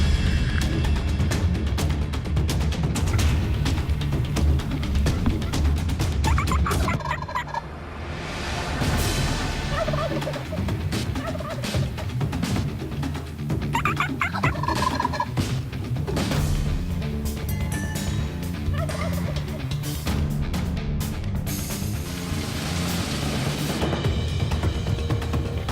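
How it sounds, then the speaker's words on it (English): Two wild turkey gobblers gobble repeatedly and loudly close by, their rattling calls coming in bursts over a dense outdoor background that includes a slate striker call. "the two big gobblers come in right below us and they're gobbling their heads off"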